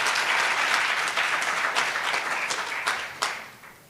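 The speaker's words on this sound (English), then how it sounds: "Let's give her a round of applause." A hall audience gives Professor Sheena Kumari a sustained round of applause, dense, steady clapping that holds for several seconds before thinning and fading near the end, with no voices over it.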